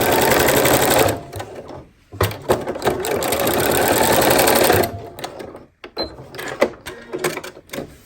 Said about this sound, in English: So I'm just going to keep chain piecing again, stopping and holding it down.